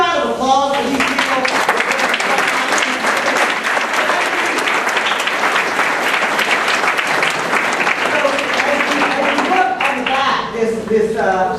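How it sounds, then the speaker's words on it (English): A packed audience at a talk in Asheville gives a long, loud burst of applause, dense clapping that runs steadily for about ten seconds, with a voice speaking over it at the start and end. "Can we get a round of applause for these people?"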